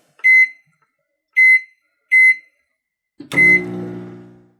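Three short electronic beeps spaced apart, then a final beep followed by a fading hum and rattle, as a microwave finishes heating a mug cake.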